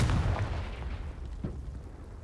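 Confringo fire spell explosion in Hogwarts Legacy, a single deep booming blast at the start that rolls off into a fading rumble with a smaller thud after, no talking.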